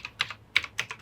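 Typing on a computer keyboard, close by: several quick bursts of key clicks in an uneven rhythm with short pauses, no voices.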